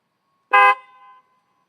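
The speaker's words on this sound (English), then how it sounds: "PIA dual slimline horns. So I found the stock horn was pretty weak" A single short blast from aftermarket PIA dual slimline horns fitted to a 2015 Yamaha FZ-09 motorcycle, loud and close with a brief ringing tail, alone in quiet.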